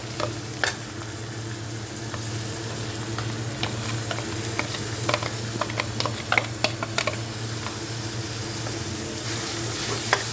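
Chopped onion and garlic fry in ghee on a gas stove, a continuous close sizzle under a low steady hum, with sharp scraping and tapping stirring strokes scattered across the clip; no one speaks.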